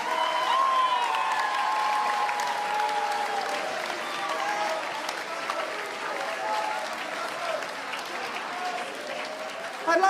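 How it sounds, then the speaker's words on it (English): An audience at a King's College school music event claps in steady, sustained applause for the judges, a dense wash of many hands filling the hall from start to finish with no break. "one more round of applause for our judges"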